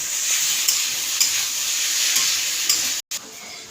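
Pasta frying in a pan gives a steady, loud, close hiss of sizzling with a few faint knocks, then cuts out briefly near the end before resuming.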